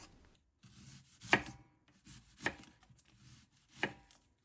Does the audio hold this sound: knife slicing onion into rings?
yes